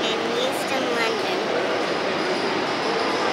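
Train at Euston station in London, a continuous loud rumble of rail cars with faint squeals and clatter throughout, with people talking over it.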